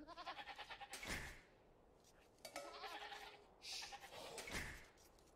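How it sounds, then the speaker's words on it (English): Sheep bleating in a strategy video game, several nasal bleats spread through the stretch alongside a few clunky in-game effects, with no talk over them. "I've got to run back here to get one of my starter sheep."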